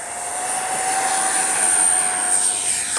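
A Freewing F-14A RC jet with a KM model afterburner, version 5, roars in a steady, loud turbine rush with a thin high whine riding on top, holding constant and close.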